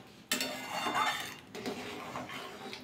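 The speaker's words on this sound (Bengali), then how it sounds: "ভালো করে নাড়াচাড়া করে নিলাম।" A spoon stirs chicken soup thickened with cornflour in a metal pot, scraping and clinking against the sides in a few quick strokes, close and fairly soft.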